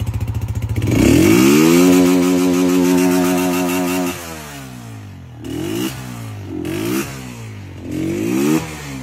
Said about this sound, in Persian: روشن میکنم، گوش کنید. موتور درجا میزون درجه 1 در کار میکنه.